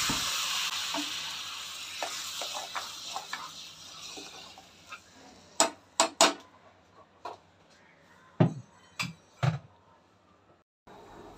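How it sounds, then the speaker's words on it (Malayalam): Mustard seeds fry in hot oil for a Kerala-style tempering. A loud hiss at the start fades into quieter sizzling, then several sharp, distinct pops and crackles ring out near the pan. "ഇനിയിപ്പം ഇതുകൂടെ ഒന്ന് വറുത്ത് ചേർക്കട്ടെ"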